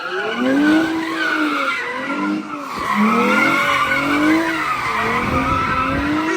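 Tires squeal in long wavering screeches as a car slides at a street takeover, engine roaring underneath, loud and continuous throughout.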